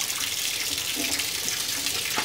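Water rushes steadily through the cooling system of a Ford Transit camper van during a coolant flush, a continuous broadband gush like a running tap, close and even throughout.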